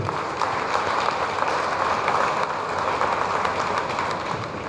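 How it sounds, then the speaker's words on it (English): Convention audience at a business inauguration applauding, a dense, steady roar of many hands clapping continuously from a sizable crowd in a large hall. "I request our guest of honor with all your applause to address all of you"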